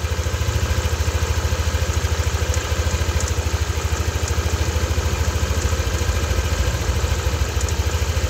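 A Yamaha Nmax V2 scooter engine idles steadily after repair, a close, even low rumble with fine rapid pulsing and a faint metallic ticking layer, running alone without voices throughout.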